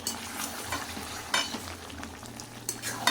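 Potatoes stirred into frying chicken kosha curry in a pan, with a steady low sizzle and scraping stirs that rise in a few louder bursts.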